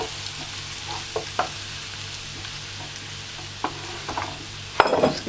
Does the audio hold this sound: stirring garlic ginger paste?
yes